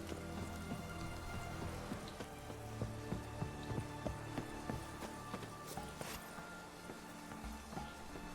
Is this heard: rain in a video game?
yes